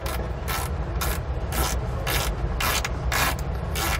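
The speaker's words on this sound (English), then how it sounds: "We can now go ahead and remove the nut down here. We're using an 11 millimeter socket to do so." Nut being loosened with an 11 mm socket on a 2017 Keystone RV's electric-over-hydraulic disc brake actuator, heard as a steady run of about eight rhythmic rasping ratchet strokes, close and fairly loud with no talking.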